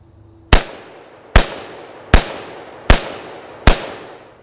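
Five sharp shotgun blasts fired at a stump outdoors, evenly spaced under a second apart, each loud crack followed by a short decaying echo.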